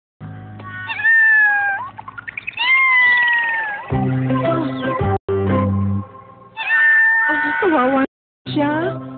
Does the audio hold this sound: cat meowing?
yes